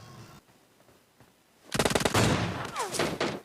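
Gunfire from a PUBG Mobile Lite match starts after a quiet, faint opening and becomes a loud, rapid burst of repeated shots that continues to the end.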